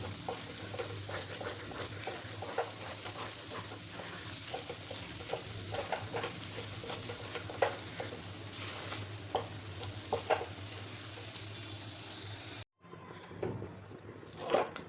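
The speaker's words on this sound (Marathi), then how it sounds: "सुरुवातीला चिकटतो खाली नंतर सारखं हलवत राहायचं आपल्याला" Moong dal halwa stirred steadily in a pan over a medium flame with ghee, giving a continuous close scraping and soft sizzle with frequent small clinks of the spoon, which stops abruptly near the end.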